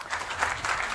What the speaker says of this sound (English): Don't applaud, I didn't do anything yet.